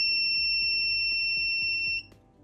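A DIY water level alarm buzzer gives a continuous shrill electronic tone that holds steadily and then cuts off abruptly near the end, leaving quiet room noise.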